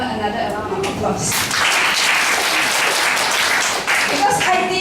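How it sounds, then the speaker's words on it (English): A church congregation applauds at a Sunday service, with broad clapping swelling for several seconds alongside indistinct voices before briefly dipping and picking back up. "Let's all give Kalmen another round of applause."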